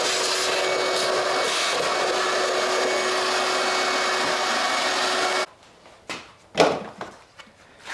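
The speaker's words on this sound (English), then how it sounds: "let's vacuum that out," A vacuum cleaner runs loud and steady, sucking sand out of the interior of a Kia Forte, then cuts off abruptly, leaving quieter clunks and handling noises.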